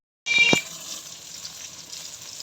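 Rohu fish pieces frying in oil give a brief burst of sizzle with a couple of sharp clinks, then settle into a softer steady crackle.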